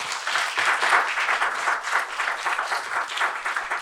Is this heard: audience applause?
yes